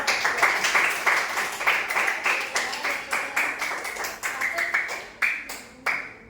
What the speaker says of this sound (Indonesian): berikan tepuk tangan yang terakhir untuk kelompok yang terakhir